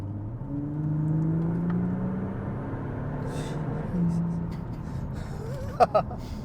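An Audi A7 3.0 TDI V6 diesel engine hums and builds as it accelerates, with a low droning rumble under people talking nearby.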